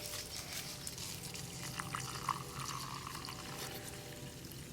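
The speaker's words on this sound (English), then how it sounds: "we fill the hole with our water to measure the volume of the hole" Water pours from a container into a hole dug in the soil, a steady trickling and gurgling that stays moderately close and continuous, with no talking.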